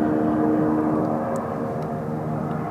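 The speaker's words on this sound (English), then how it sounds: "It's still continuing as this plane approaches. But now you can slowly hear the plane." A propeller airplane drones steadily in the distance over Winnipeg, a continuous low rumble with a faint tonal hum, fairly quiet and unbroken.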